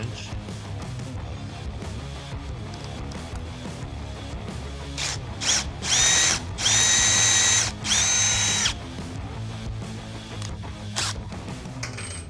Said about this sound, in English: drill the existing hole out to 1/4".